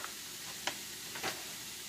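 Gardein vegetarian meat fries with garlic in a pan, a steady bright hiss of sizzling with a couple of soft clicks and scrapes from stirring, close and even throughout.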